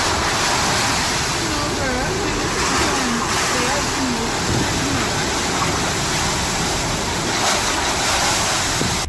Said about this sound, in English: Take notice of the wind and rush of the waves.